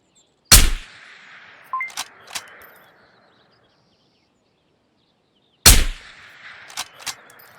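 Gunfire in the video game Ghosts of Tabor: two sharp, loud single shots several seconds apart, each followed by a few smaller clicks and thuds before silence.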